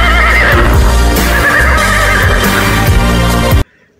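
A toy horse lets out a loud, continuous neigh and whinny with hoof clip-clop mixed in, lasting about three and a half seconds before cutting off abruptly.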